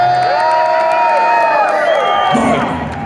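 A crowd at a rock concert in Papenburg screams and cheers, loud shrill voices and whoops rising and falling together over a sustained roar.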